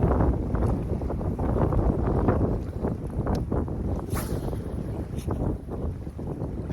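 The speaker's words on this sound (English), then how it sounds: "And you can still hear and see in these clips where this wind is kind of just starting to roll in a little bit more aggressively." Steady wind gusting over a creek bank during bank fishing for prespawn bass, a continuous broadband rush that swells and buffets the microphone throughout, with no talking.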